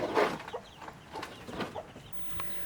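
Hens sitting on eggs in North Bali cluck nearby in short, irregular bursts, several soft calls scattered through with a louder one at the start; no talking.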